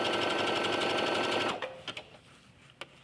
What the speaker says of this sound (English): You just sew as if you're sewing a straight stitch.